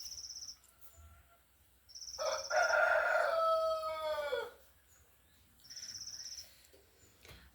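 A rooster crows once, loud and drawn out, over a steady high chirping of crickets that pauses and returns, in an otherwise quiet outdoor setting.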